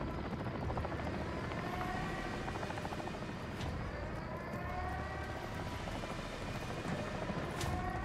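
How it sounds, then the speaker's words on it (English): Attack helicopter in the Call of Duty Modern Warfare 3 campaign, a steady loud rotor drone with engine whine holding throughout, with no talk over it. "that chopper's looking for me"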